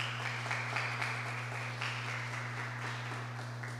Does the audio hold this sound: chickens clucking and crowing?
no